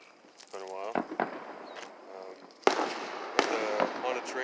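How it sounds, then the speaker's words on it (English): Fourth of July fireworks near an abandoned train station in Michigan, sharp bangs and crackling bursts, a couple of loud reports standing out, with a voice talking over them. "I hear fireworks like crazy."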